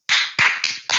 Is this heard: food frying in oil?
no